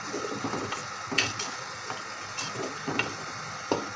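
Tomato puree is stirred into beef karahi as it cooks, giving a soft continuous sizzle over scattered light clicks and scrapes of a spoon against the pan, with no talking.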